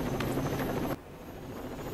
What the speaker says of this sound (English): Is the helicopter coming?